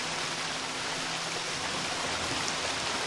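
A waterfall in the Odyssee video game pours as an even, hissing wash of noise, unbroken and moderately faint, with a faint low tonal hum in the background.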